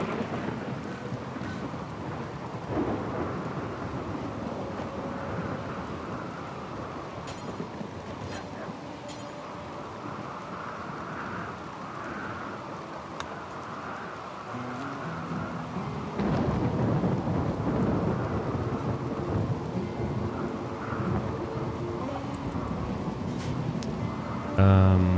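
Rolling thunder rumbles under steady rain in a RimWorld colony, a low continuous roar that swells louder toward the end, with a voice talking over it.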